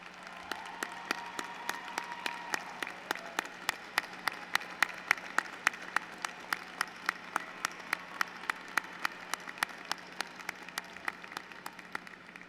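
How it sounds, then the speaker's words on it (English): Audience at an afternoon commencement ceremony applauds steadily, with crisp individual claps overlapping into a dense, even patter that holds at moderate volume for the whole stretch, under a low constant hum. "to please stand and accept a round of applause"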